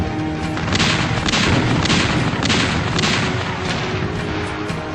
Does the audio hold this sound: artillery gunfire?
yes